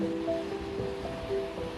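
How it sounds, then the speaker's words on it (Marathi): Sea waves crash and wash against coastal rocks on the Konkan shore between Ganpatipule and Malvan, a steady broadband surf roar with no voices, under a faint tonal hum. "जेव्हा लाटा त्या दगडांना आपटतात तेव्हा किती पांढऱ्या शुभ्र पाणी होते बघा"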